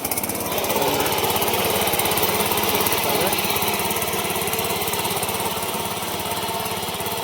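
A small petrol tiller engine on a farm runs steadily at close range, a loud, fast rattling chug that continues evenly throughout with no talk over it.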